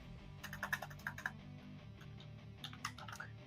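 Quick bursts of keystrokes on a computer keyboard while setting up PyGame code, in two clusters of sharp clicks separated by a brief pause, close and fairly quiet.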